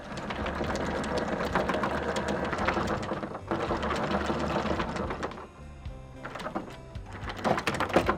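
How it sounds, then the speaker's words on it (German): A NEEL 47 trimaran motoring over a calm Mediterranean sea, its engine running in a steady, busy mechanical drone that lasts throughout, with brief dips in level partway through and no talk. "Heute müssen wir mit Motor fahren, weil wir heute weiter müssen."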